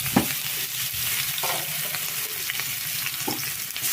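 Bay leaf, black cumin and onion fry in hot oil with a dense, continuous sizzle. A few soft stirring knocks are heard close up, and no voices.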